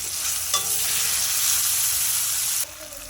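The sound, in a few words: tomatoes and green chillies frying in spice paste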